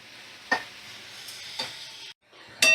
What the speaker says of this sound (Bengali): এবার মিডিয়াম ফ্লেমে রেখে আমি ভালো করে মশলা আর নুন হলুদ দিয়ে লাউটাকে কষিয়ে নেব।